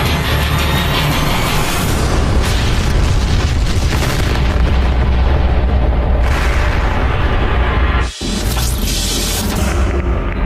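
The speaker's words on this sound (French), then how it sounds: "une terrible explosion s'est produite" A rocket launch explosion in a documentary sound effect: a massive, sustained roaring blast that fills everything for about ten seconds, loud and close, with a momentary cut near the end before the rumble continues.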